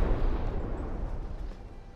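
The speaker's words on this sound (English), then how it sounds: "this forward cannon just took a direct hit, but seems to have survived it" A heavy cannon-hit explosion in the naval combat game From the Depths, a loud deep boom with rumbling decay that fades over two seconds, no talk.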